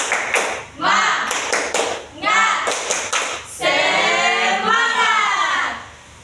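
A group performs a tepuk semangat spirit clap, sharp claps in a patterned rhythm. Loud chanted voices ring out between and over the clap bursts, and the pattern builds into a sustained shout near the end.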